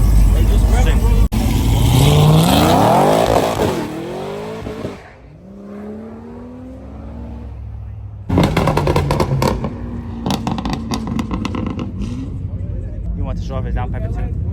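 A boosted Honda revs hard at a Cars & Coffee meet that turned into a takeover, with rising engine sweeps and loud exhaust roar near the mic, then more engine noise over crowd chatter and voices.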